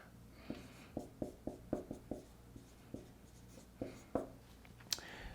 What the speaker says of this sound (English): Let's write that out.